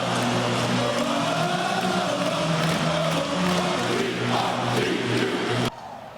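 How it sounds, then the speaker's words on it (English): A crowd inside the Kennel at a college basketball home opener roars steadily, a dense, loud wall of cheering and shouting that cuts off abruptly near the end. "That cheering inside the kennel can only mean one thing"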